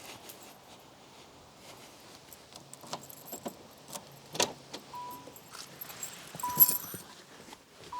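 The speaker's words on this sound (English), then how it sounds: "but I got my keys" Car keys jangle and clink in scattered bursts close by, with a few sharper metallic rattles and faint movement in between, no speech.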